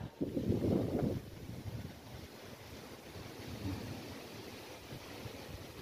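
Strong wind roars and buffets the microphone outdoors on a farm, loudest in a heavy gust at the start, then a steady rushing blow continues before heavy rain.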